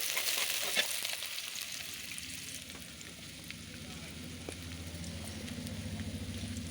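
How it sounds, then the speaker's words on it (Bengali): Chopped onion fries in hot oil in a wok for a village silver carp dish, giving a dense, continuous close-up sizzle with scattered crackles and a low rumble building underneath. "দিয়ে দিলাম পেঁয়াজ কুচি"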